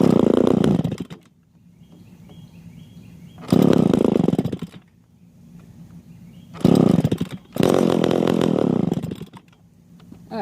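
A gas-powered chainsaw roars loudly in several revving bursts, dropping back to a rough idle between each one, close by and with no talk.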